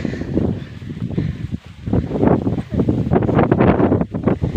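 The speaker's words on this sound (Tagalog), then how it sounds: "sobrang lakas pa rin talaga ng hangin ngayon" Strong wind gusting hard against the microphone in uneven bursts outdoors in the rural Philippines, loud and close, with no talking.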